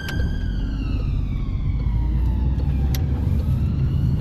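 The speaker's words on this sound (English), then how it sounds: "I can see the siren behind me." A wailing emergency vehicle siren sweeps steadily behind a car on a road in Chertsey, over a loud, constant traffic rumble, fairly close, with no voices.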